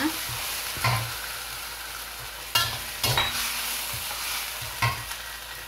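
Petai beans stir-fried in green chili sambal for a Minang dish, a close steady sizzle broken by several sharp scraping clacks of a spatula against the pan.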